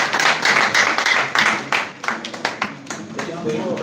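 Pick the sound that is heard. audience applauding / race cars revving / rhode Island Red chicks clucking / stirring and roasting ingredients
audience applauding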